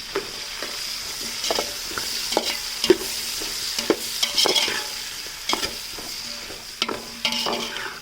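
Mixed vegetables, with tomato and other chopped produce for vegetable rice, fry in a pan under a steady sizzling hiss, punctuated by repeated scraping and clacking strokes of a stirring spoon, close by and without speech.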